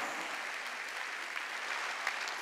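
Congregation clapping during a Sunday church service, a dense continuous patter of many hands, fairly distant and even for the whole stretch.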